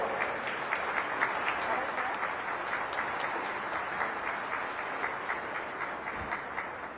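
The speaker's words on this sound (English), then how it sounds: "A thunderous round of applause for this man" Steady audience applause fills a ceremony hall after an honorary doctorate acceptance speech, dense and sustained throughout with many hands clapping at once.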